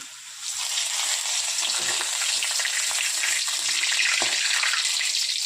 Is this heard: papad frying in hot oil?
yes